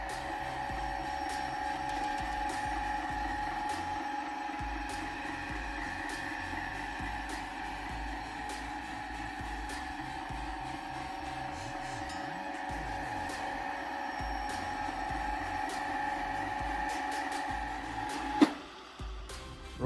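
A Bardi robot vacuum runs in mopping mode with a steady, close mechanical hum and whir that stays even throughout. A sharp clunk comes near the end.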